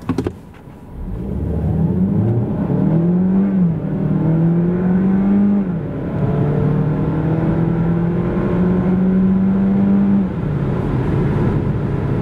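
A 2023 Alfa Romeo Tonale with the 1.5 hybrid engine (160 + 20 hp) pulls hard from a standstill to 100 km/h, the engine note rising through several gear changes, loud and close from inside the car.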